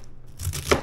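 A knife chops through cabbage on a board, giving a couple of quick, close crunching cuts in under a second, with no voices.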